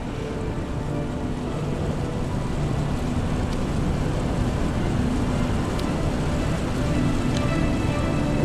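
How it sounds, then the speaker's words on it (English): A rocket launch pad sound suppression system in the game Deliver Us The Moon sprays water in a dense, steady rushing roar, loud and unbroken, with faint metallic pings above it. "Sound suppression system engaged."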